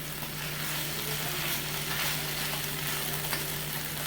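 Potatoes, mushrooms and onions frying in a pan, a continuous low sizzle with occasional faint stirring scrapes and a steady kitchen hum beneath, no voices.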